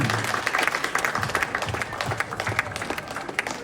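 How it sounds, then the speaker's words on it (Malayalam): An audience claps together at a ceremony honouring senior farmers: dense, continuous applause from many hands, fairly close and steady throughout, with no voices standing out. "എല്ലാരും കൈയടിച്ച് എല്ലാവരും ഒന്ന് ക്ലാപ്പ് ചെയ്യും"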